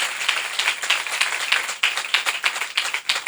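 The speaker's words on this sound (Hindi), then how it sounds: "अगर तालियां बजाना चाहें तो जरूर बरकत की बात है" A church congregation at a Sunday service claps together during a sermon, a brisk, fairly steady rhythm of many hands sounding close and lively.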